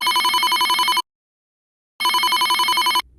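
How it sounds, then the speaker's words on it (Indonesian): A telephone rings in two long electronic trill bursts of about a second each, separated by a second of silence, loud and close with no talk. "akhirnya telepon juga dia"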